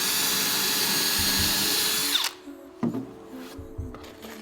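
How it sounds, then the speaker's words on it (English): A power drill runs steadily as it pre-drills a hole in a larch decking board, whining loud and continuous for about two seconds before stopping abruptly, followed by a few faint knocks and rustles. "I want to pre-drill my hole to make sure that the head of the decking screw is countersunk."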